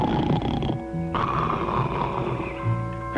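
A cartoon character snores in a drawn-out, nasal rasping breath with a whistling tone, loud and close, heard alone.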